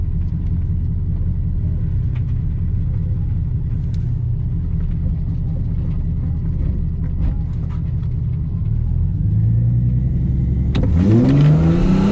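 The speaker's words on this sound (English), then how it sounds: "We're actually gonna try to launch and try to make this one go a little bit fast." A Mercedes SLK32 AMG idling with a deep, loud rumble at a drag strip, then the engine revs sharply near the end as it spins its tires on a launch attempt, the pitch climbing quickly.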